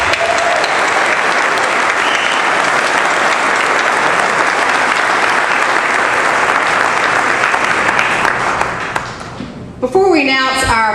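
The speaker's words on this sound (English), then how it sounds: "Let's give all of our 20 officers a round of applause." A large audience at a police community awards ceremony applauds 20 honoured officers with dense, loud, sustained clapping that fades near the end, where a voice begins speaking.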